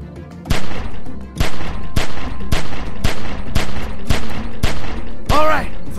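Gunfire in a zombie video game booms out as loud, evenly spaced shots about every half second, each with a heavy crack and short echo, with a brief voice near the end.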